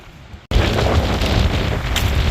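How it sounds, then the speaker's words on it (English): Strong wind at Cypress Lake blasts the microphone as a loud, continuous roaring rumble that starts abruptly after a brief quieter moment and persists without letup, with no voices. "it is windy as heck"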